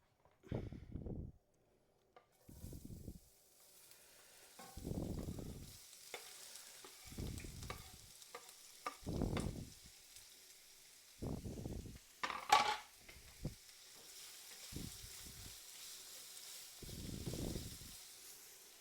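Vegetables lightly sauteing in a hot pan, stirred and pushed around with a wooden spoon in a home kitchen, giving repeated bursts of scraping and soft sizzle in an irregular rhythm with quiet gaps between strokes.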